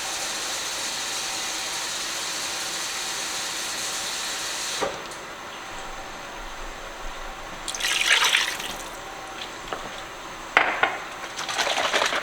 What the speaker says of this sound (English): Putting 8 cups of water in.